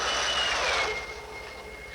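Jet fighter aircraft speeding overhead, a loud broadband roar with a high whining tone that drops slightly in pitch as it passes and fades a little toward the end, with no voices.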